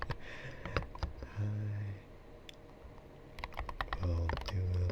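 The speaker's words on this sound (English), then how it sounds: "I will do my best with typing this letter out to you" Steady clicking of fingers typing on a computer keyboard, close and soft, with irregular bursts of keystrokes and brief pauses, in a quiet indoor setting.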